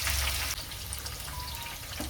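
Spicy bitter gourd sizzles in a pan over a low gas flame as the pieces are gently turned, giving a continuous close crackling fry with no voices.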